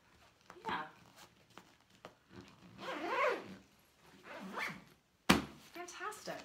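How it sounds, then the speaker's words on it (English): A travel bag's zipper is pulled shut in a few short rasping bursts, close and moderately loud, with a person speaking between and around the zipping. "this just zips up really nicely"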